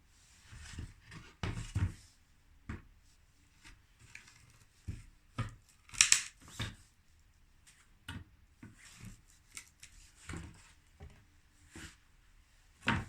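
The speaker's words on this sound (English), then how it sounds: "I'm just trying to get some nails out of these old boards." Nails are pried out of old wooden boards, giving scattered creaks, knocks and sharp squeals of metal pulling from wood, irregular and fairly quiet with pauses between efforts.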